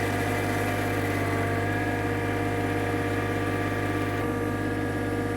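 A John Deere 1025R compact tractor engine runs steadily under heavy load while dragging a cable plow through sod, a constant droning hum with no talk.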